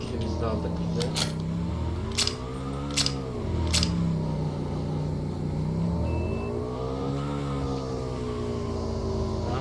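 A car in PUBG Mobile drives with a steady engine drone that rises and falls as it revs, with a few sharp clicks and a voice talking over it.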